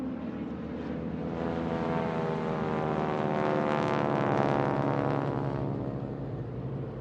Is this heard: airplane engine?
yes